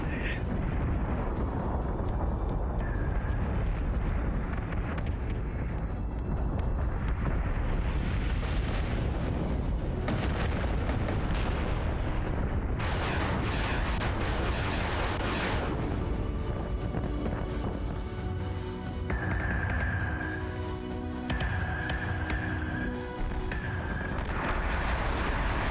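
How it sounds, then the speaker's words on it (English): Torpedoes striking a Battlestar in the space combat game Battlestar Galactica Deadlock: a dense, continuous rumble of explosive impacts and blasts that swells and fades across the clip, loud and close, with no talking. "Oh, you think those torpedoes missed, but they didn't."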